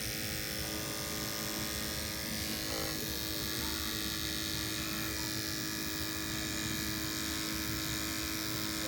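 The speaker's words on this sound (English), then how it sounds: "I'm going to shave just a small area to do my scrape." Close, continuous buzz of electric clippers shaving a small patch of an animal's skin, droning steadily for several seconds.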